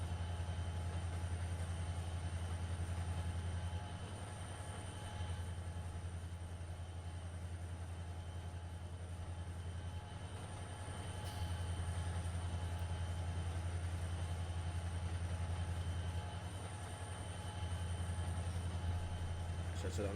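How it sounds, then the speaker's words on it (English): A freight train running on the Horseshoe Curve in Trainz Simulator 2 gives off a steady low diesel rumble with a faint rail hum, continuous and moderately distant, rising and dipping slightly over time. "if you've always wanted to run freight trains up and down the Horseshoe Curve in the world of Train Simulator 2,"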